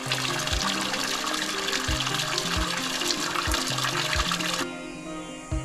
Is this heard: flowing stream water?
yes